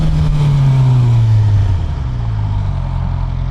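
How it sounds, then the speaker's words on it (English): Suzuki GSXR 750 motorcycle engine at close range, a steady loud drone whose pitch sweeps gradually downward as it eases off, with no talking. "Oh, I just love the way this bike sounds."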